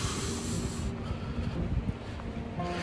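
Strong wind roaring and hissing outside a camper during an ice storm, a steady broad rush that eases slightly partway through.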